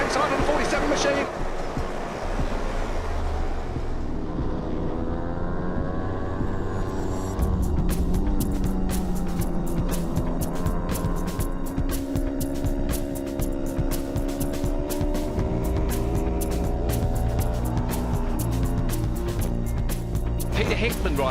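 Race motorcycles, including an Aprilia, roar away from the start of the North West 200 road race, with several engines revving hard in rising, overlapping tones under continuous loud commentary.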